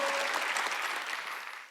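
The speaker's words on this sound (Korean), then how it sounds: "박수 좀 쳐줘요." A congregation at a Korean church's Wednesday worship service applauds, a brief burst of steady, full clapping that fades slightly at the end.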